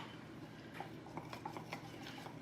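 A spoon stirs cornstarch into half a cup of apple juice in a measuring cup, with soft, quick clinks and scrapes against the cup, close and quiet.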